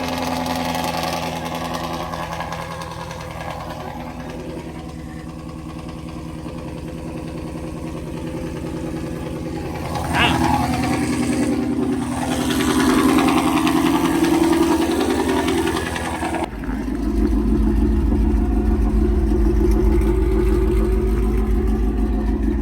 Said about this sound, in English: Get y'all a little cold start real quick, man.